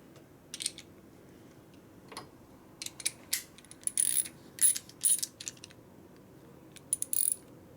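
A driver turns a fitting into a tap during a 1965 Harley panhead 74ci FLH motor rebuild, making faint intermittent clicks and ratcheting bursts over a quiet background with no talking.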